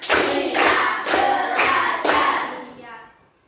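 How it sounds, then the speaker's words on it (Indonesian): A classroom of children claps together in a counted rhythm, five loud group claps about half a second apart, ending in a fading ring. "Tepuk 1, tepuk 2, tepuk 3, tepuk 4, tepuk 5."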